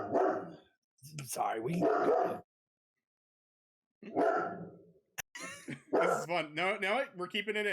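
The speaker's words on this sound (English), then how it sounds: "That's my dog, by the way." A pet dog barks several times nearby during a gaming podcast, short bursts breaking through and overlapping with people talking.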